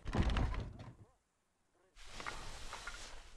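A door opens or closes with a thunk in the horror video game Mundaun, heard as a short bump between stretches of dense in-game sound, with a gap of near-silence in the middle.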